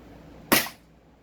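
SCAR gas blowback airsoft rifle with an upgrade, a single sharp close crack with a brief hissing decay, standing alone in a quiet room.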